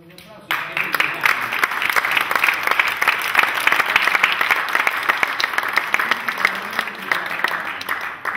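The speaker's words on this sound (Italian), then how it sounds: "Beh, ma un applauso" Applause from a concert audience at a villa cello and piano recital starts abruptly and carries on as thick, lively clapping from many hands, with sharp individual claps standing out before it eases slightly at the end.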